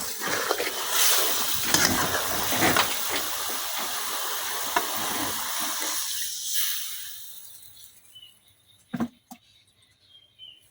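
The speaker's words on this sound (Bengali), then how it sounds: "এখন পরিমাণ মতো ঝোল দিয়া দেন।" Broth poured into a pan of tomato and shing fish curry: a steady, rushing splash of liquid for several seconds that stops abruptly, leaving quiet kitchen sounds and a brief clatter.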